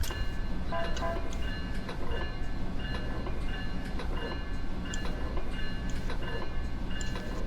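A train rolls along steadily on the Peninsula Corridor route in Train Simulator 2017, with a continuous rumble and periodic clacking, no voices present.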